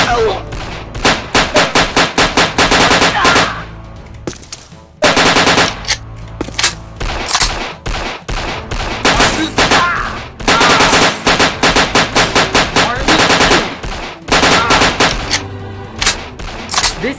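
Gunfire in a video game: long, loud bursts of rapid machine-gun fire rattle almost nonstop, broken by a few brief pauses, with rhythmic rounds close and dominant.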